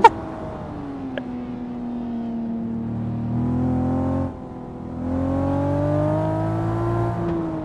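A JDM car drifting in Assetto Corsa holds a steady engine drone that rises and falls in pitch with throttle, dips briefly midway, then climbs again, with faint tyre and road noise underneath.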